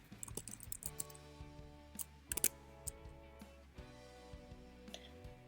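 Fingers type a new tab name on a computer keyboard in a quiet room, with irregular bursts of light, close key clicks and a few louder taps.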